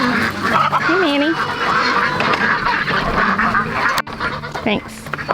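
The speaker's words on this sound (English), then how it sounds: "It's so cute when the ducks realize you have their food." Ducks on a small farm quack loudly and repeatedly at close range as they gather for feed, with other birds calling amid busy background noise.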